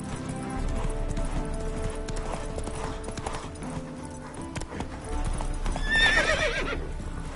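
Rhythmic hoof clip-clop of a horse trotting in The Witcher 3, steady and close under game music and ambience, with a brief whinny toward the end.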